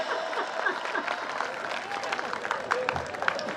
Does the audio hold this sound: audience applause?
yes